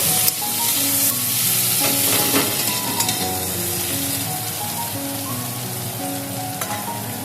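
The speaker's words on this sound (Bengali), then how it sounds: "পেঁয়াজটা আমি একটু লাল লাল করে ভেজে নেব।" Chopped onions fry in hot oil in a pan, browning until reddish, with a steady, loud, crackling sizzle that runs throughout and no talking.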